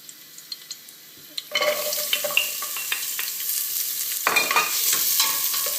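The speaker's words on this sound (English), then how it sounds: "Just throw one onion, and you can hear the noise." Onions drop into hot oil for a lamb and runner bean stew and a loud, steady sizzle erupts, crackling and spitting continuously, briefly dipping then surging again. Faint clicks precede it.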